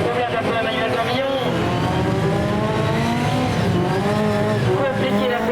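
Touring race cars at speed on a circuit, including a Nissan Micra, during a Tourisme Cup qualifying session at Montauban-de-Bretagne, their engines droning loud and continuous under a commentator's voice.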